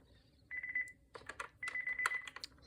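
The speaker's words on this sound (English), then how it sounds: "It sounds like I'm pressing some buttons accidentally." Buttons on a Panasonic KX-TG2343 telephone are pressed, giving faint clicks and short, thin electronic beeps, some of them repeated in quick succession in a quiet room.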